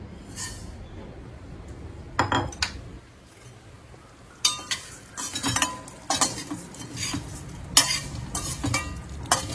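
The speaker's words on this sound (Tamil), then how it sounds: "அதில் 1 கப்பு சேமியா போட்டு வதக்கி எடுத்துக்கிறோம்" Vermicelli roasting in ghee in a kadai for kesari payasam, heard as a soft sizzle beneath repeated scraping and clinking strokes of a spatula against the pan, coming in irregular bursts at close range with no voices.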